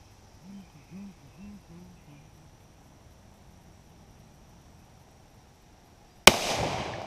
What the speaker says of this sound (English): I've never shot 1 ounce slugs out of this little sawed off tactical.